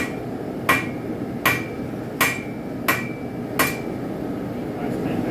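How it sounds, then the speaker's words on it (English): Five evenly spaced, ringing hammer strikes on a railroad spike being forged into a knife, each sharp metallic clang followed by a short ring, over steady background noise. "Alright, start hammering on the bullseye."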